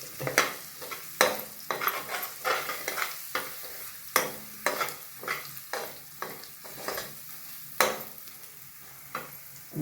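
Vegetable masala roasting in oil as it is stirred, with repeated sharp scrapes of a spatula against the pan over a soft sizzle, close and fairly quiet, no talk.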